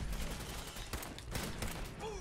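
Gunfire in Fallout 4 rattles in a quick burst of shots over a dense, noisy game soundscape, fairly faint, with a voice talking faintly underneath.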